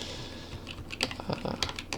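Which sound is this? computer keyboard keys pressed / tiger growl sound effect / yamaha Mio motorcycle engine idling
computer keyboard keys pressed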